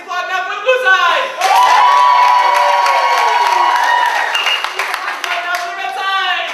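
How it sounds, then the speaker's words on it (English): An improv comedy show audience bursts into clapping, cheering and shouting for the blue side, a dense, loud wave of applause with voices rising over it that fades slightly toward the end. "Please applaud now for the blue side!"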